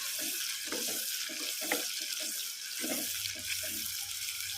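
Sliced onions frying in oil in a home kitchen pan, a soft continuous sizzle with bursts of stirring scrapes, fairly quiet and close, no talking.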